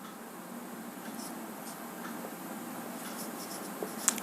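Soft, steady scratching of chalk or marker writing on a board during a physics lesson, continuous and fairly faint with a small tap near the end.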